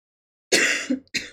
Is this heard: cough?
yes